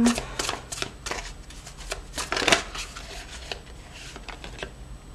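Tarot-style cards riffled and shuffled up close in a run of quick papery bursts, then a few single cards slid and drawn, with a faint voice in the background.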